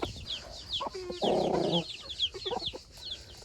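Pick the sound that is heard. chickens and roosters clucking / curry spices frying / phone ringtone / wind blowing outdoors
chickens and roosters clucking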